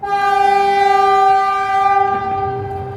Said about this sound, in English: A massive hoot echoes through the station.